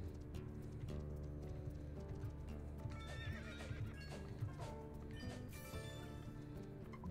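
A horse in the Roblox game Horse Life gives several whinnies and neighs over clip-clopping hooves, with game music and effects underneath; the sounds come at a steady moderate level.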